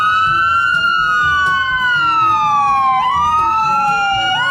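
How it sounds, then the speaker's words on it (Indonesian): A toy ambulance's electronic siren wails continuously, loud and near, its tone sliding up and down in repeating sweeps over a faint mechanical hum. "di sini ada mobil ambulans"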